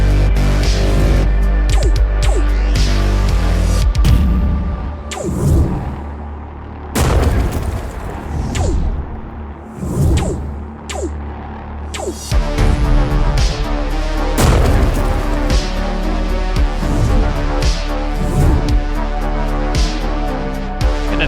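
A weapon effect fires in a spaceship shooter video game prototype, producing loud repeated booming blasts and explosive bursts over a dense tonal game soundtrack, with rapid volleys clustered throughout.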